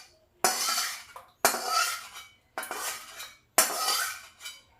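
A spoon scrapes and clinks against a pot as thickened dessert is poured into a bowl, in four distinct scraping bursts, each swelling and fading, close and clear with no talking.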